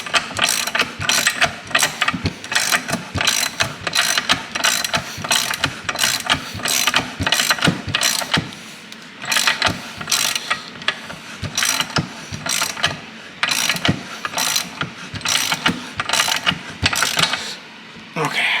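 A hand ratchet clicks rapidly and steadily, tightening a shock part during a front end rebuild with a QA1 shock upgrade. The close metallic clatter runs in repeated bursts with a short pause midway.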